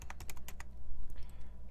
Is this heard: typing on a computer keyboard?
yes